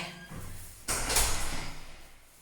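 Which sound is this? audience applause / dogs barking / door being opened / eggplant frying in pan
door being opened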